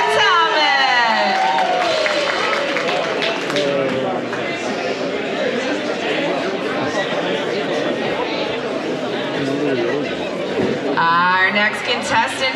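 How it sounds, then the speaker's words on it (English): Audience at a pin-up contest cheering, whooping and chattering in a loud, continuous crowd roar, with excited voices near the start and end. "Let's give a big round of applause for our fabulous Amber Mills, Amber Atomic."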